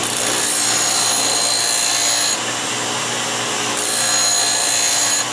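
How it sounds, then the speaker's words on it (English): The blower on a swing-arm figure skate sharpening machine runs with a loud, steady rushing hiss. Its tone shifts partway through and then returns, and no voices are heard. "And I'm going to hit the blower over here."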